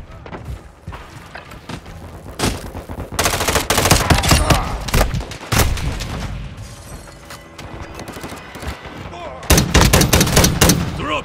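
Dense video-game gunfire from Modern Warfare 2, rapid bursts and heavy booms in repeated waves, loudest in the middle and at the end, with game voice callouts mixed in.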